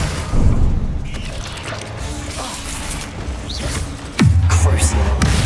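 In the Hogwarts Legacy video game, a Bombarda spell detonates with a loud, close boom, followed by a rumbling blast that fills the rest of the moment over busy in-game effects.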